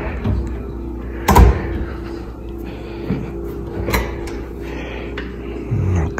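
Kitchen cupboard doors in a hotel suite being opened and shut, giving a few scattered wooden knocks and soft thuds over a steady room hum, one sharper clack near the start.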